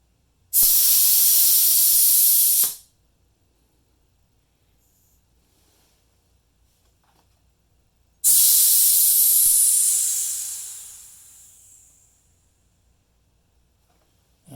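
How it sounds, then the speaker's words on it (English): Air pressure hissing out of an eScooter tire valve in two loud bursts, the first cut off after about two seconds, the second longer and fading gradually, with silence between. "there should still be quite a bit of pressure in here, so I'm just going to release that"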